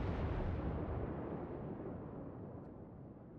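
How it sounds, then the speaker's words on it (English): Main guns of the battleship Arizona fire in World of Warships, a loud deep boom with a long rumbling roar that fades slowly over several seconds, with no voices. "here I'm taking my first shots towards the Congo"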